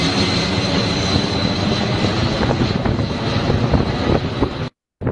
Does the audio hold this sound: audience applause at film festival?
no